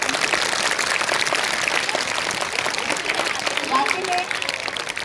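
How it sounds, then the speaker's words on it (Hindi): Loud, sustained applause from a group of students at a school session with a police officer, dense clapping filling the whole stretch, with voices mixed in. "जोरदार तालियां।"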